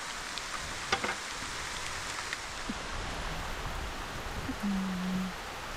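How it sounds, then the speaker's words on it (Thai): Rain falls steadily in a forest, a soft continuous patter with a few louder drops and knocks, fairly faint and without talk. "ฝนตกทุกคน"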